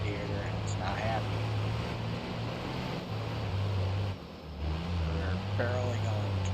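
A damaged engine with a lost radiator runs rough and overheating, a steady low mechanical drone with some revving that dips briefly midway, while a voice talks over it throughout.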